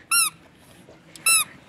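Two sharp, high squeaks from small children's shoes, each short and bright, separated by about a second of quiet room noise.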